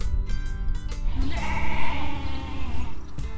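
Sheep at a mountain sheep camp bleat loudly and close, with one long wavering cry in the middle and further calls around it, set against a low rumbling background.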